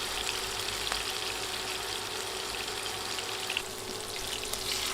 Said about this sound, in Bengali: মাছ দিয়ে এক পাশ 2-3 মিনিট ভেজে নিয়েছি। এখন উল্টে দিয়ে অন্য পাশও ভেজে নিব।